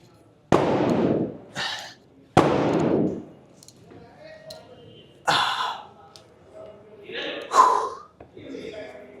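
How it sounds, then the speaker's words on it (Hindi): Firecrackers burst outside a gym in a string of sharp, separate cracks, some louder and others fainter, with short gaps between them and someone talking in the pauses. "आगे पटाखे फूट रहे हैं।"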